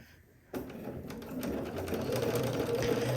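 A sewing machine stitches through layers of softly gathered shirt fabric. It starts after a brief quiet moment, then runs as a steady, close, whirring hum that grows slightly louder.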